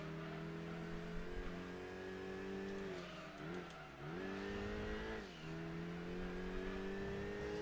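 Racing car engines from the video game Gran Turismo 2, a steady loud whine that rises and falls with gear changes and a brief dip near the middle, heard without any talk.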